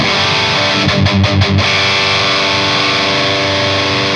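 Heavily distorted guitar runs through a Marshall amp rig, a sustained chord held loud and close while a knob sweep briefly shifts the tone near the start before it settles.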